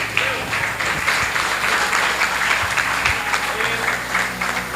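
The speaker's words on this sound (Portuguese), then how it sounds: "aplauda o nome do Senhor Jesus" A church congregation claps at a family worship service, a sustained wash of many hands applauding evenly throughout, fairly near, with a few faint voices underneath.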